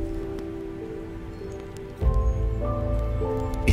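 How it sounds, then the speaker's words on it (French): Steady rain falls and patters on surfaces, close and constant, with a low tonal hum underneath that shifts and grows louder partway through. "Et cette pluie qui ne fait qu'aggraver les choses."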